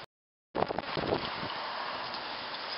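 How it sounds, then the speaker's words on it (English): Strong wind blows hard outdoors, striking the microphone in a sudden gust after a brief silence, then holding as a loud, steady rushing roar. "Wind has gotten so much worse."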